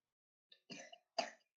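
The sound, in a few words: child coughing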